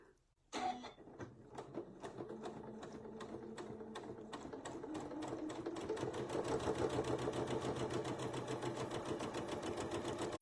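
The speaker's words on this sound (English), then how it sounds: "All right, let's sew it, and this will be the last piece" A sewing machine stitches a fabric piece for foundation paper piecing. After a brief start, it runs in fast, steady, rhythmic bursts of needle strokes, close and clear, with no talk.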